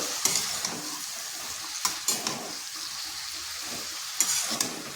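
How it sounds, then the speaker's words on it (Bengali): Bottle gourd sautéing with spices in a pan over medium heat, a soft wet sizzle broken by several sharp spatula scrapes against the pan, close by. "এরপর আঁচটা মিডিয়াম আঁচে করে লাউটাকে বেশ কিছুক্ষণ কষে নিতে হবে"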